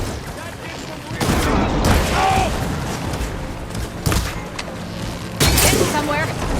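Bursts of gunfire in Horizon Forbidden West, loud repeated shots with heavy booms and mechanical clatter during a chaotic battle against machines, with voices shouting over the action.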